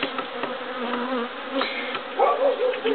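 Honeybees buzz at an open beehive during a routine January inspection, a dense, continuous close hum with individual bees droning nearby.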